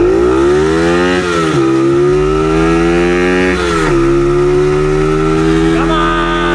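A dirt bike engine revs hard throughout while being ridden, a loud, continuous mid-pitched drone that rises and drops at a few shifts between gears.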